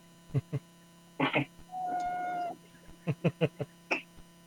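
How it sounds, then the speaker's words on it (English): A single drawn-out cat meow sounds close by, with short bursts of human talk before and after it over a low electrical hum. "I think I hear your cat."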